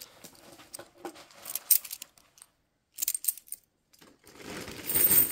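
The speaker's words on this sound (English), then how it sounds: "Let's get rid of these." 50p coins being sorted out of a coin bag: bright metallic clinks and jingles in short bunches with pauses between, close and fairly quiet, then a denser rattle at the end.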